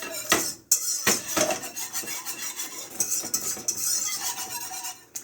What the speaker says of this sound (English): So we're just going to mix in this cocoa.